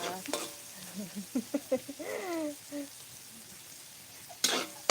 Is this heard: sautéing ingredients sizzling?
yes